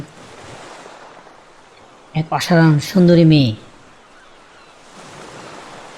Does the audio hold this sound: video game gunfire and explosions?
no